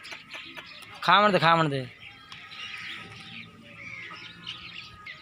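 Mukhi Chini pigeons give a short loud warbling call up close, with soft chirps and coos in the background and someone speaking between the calls.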